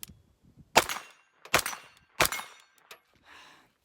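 An RD-9 handgun fires three loud, sharp shots at a shooting range target 20 yards away, each spaced about three-quarters of a second apart and followed by a brief ringing decay, with a faint clink after the last shot.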